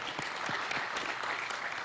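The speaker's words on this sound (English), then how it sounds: "A round of applause for her, please." A conference audience claps steadily, a dense patter of many hands at moderate distance, continuing without pause.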